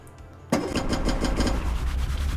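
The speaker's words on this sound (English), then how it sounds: "You can go over there and start your engine." After a short quiet moment, an engine in the video game Stormworks starts abruptly and then runs steadily with a rough, pulsing rumble.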